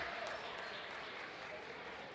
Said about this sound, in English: Vinny Bergman checks into a bit of an applause.